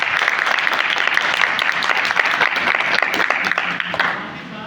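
Audience applause fills a college hall at MMG College Ghaziabad during a December 6 Ambedkar memorial event, dense and sustained clapping from a large crowd that fades slightly at the end, with voices mixed in.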